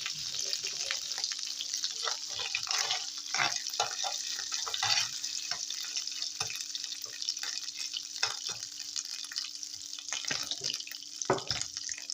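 Water added to fried tomato paste in a pan gives a continuous hiss and bubbling sizzle, with stirring scrapes and a sharper splash near the end, close up and without speech.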